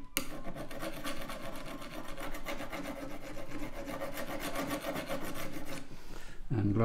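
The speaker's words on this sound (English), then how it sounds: "And scrape the edges a bit smoother and then burnish them." The edges of a metal etching plate are scraped and burnished with a steady, continuous rasping rub, close up and fairly even for several seconds before stopping with a brief thump at the end.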